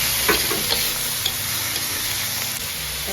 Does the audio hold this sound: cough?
no